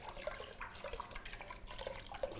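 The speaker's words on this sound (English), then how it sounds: "And then I'm going to top it up with some good quality sparkling Lambrusco. I'm pouring this in last just to kind of keep that sparkling element." Sparkling Lambrusco, a dry red wine, is poured into a cocktail as a final topping, giving a soft, quiet liquid trickle with faint fizzing that runs steadily for a couple of seconds with no talking.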